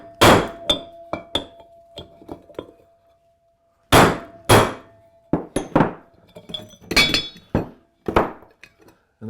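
A socket is struck repeatedly with a hammer to drive the outer race of a wheel bearing out of a garden cart wheel, giving sharp metallic clinks and clangs in irregular bursts with short pauses between them, close and loud with no talking.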